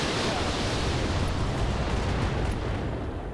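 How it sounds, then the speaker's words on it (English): A mech in the BattleTech RogueTech game fires a volley of missiles, giving a dense, loud, rumbling roar of launches and blasts that fills the whole stretch and fades slightly at the end. "we're just going to unload on this guy. We're leaving the 2 lasers off, and we're just going to go with all the missiles"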